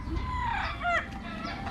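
A rooster on a backyard farm crows with a rising, wavering call, with fowl clucking close by in the background and no voices.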